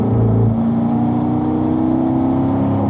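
A car's engine pulls hard on a race track at a performance driving school, the throttle squeezed on exiting a left-hand corner, a loud, steady revving drone that holds throughout with no talk.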